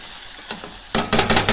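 Tomato masala being mashed and cooked in a pan: after a quiet start, four rhythmic scraping, stirring bursts with a light sizzle fill the second half, close and clear, with no talking.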